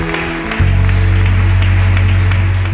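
Church congregation clapping and acclaiming together, with loud crowd applause over a deep, sustained low musical tone that enters after half a second and holds steady throughout.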